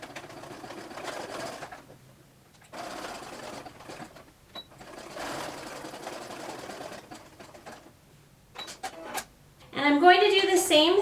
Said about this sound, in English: So I have my machine set to a pretty narrow and short zigzag, and I'm going to use it to secure these 2 lace ends together.